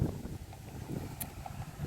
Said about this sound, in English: Sorry for the wind noise.